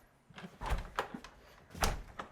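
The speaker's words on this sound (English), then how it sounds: "Oh God, that door." An old wooden door in a circa-1800 barn converted into a historic home is forced open with a series of loud creaks and scraping thuds in uneven bursts, close to the microphone.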